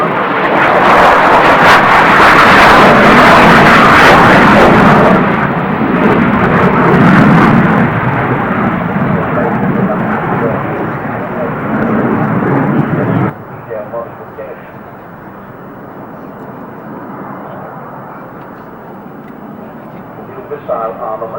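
Military jet aircraft flying at the 1992 Farnborough Air Show, a loud broad engine roar that fills the first thirteen seconds, then drops to a quieter, duller rumble, with a commentator talking over it throughout.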